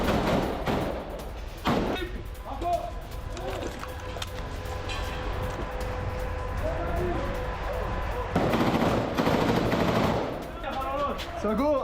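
Heavy IDF gunfire during a ground operation in northern Gaza, with bursts of shots and booms across the clip, some sharp and close, others rolling farther off, and voices talking underneath.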